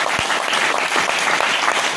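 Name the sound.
audience clapping for themselves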